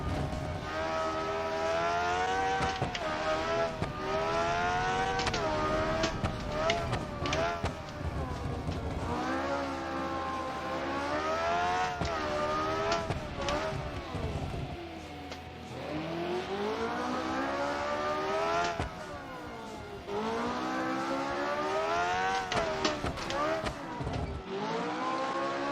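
Race car engine in a racing video game on the Monaco circuit, revving repeatedly with rising and falling pitch through gear changes, loud and continuous with brief dips, plus wheel spin.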